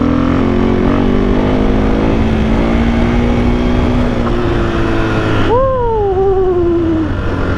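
Engine of a 2021 KTM 500 EXC dirt bike held at a high steady rev during a wheelie, a loud sustained whine that drops off near the end, then a short rising-and-falling rev.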